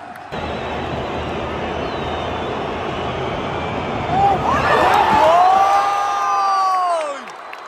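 A stadium crowd at a football match featuring Jordan roars together in a sustained, loud cheer, with rising whistle-like tones cutting through the din toward the end.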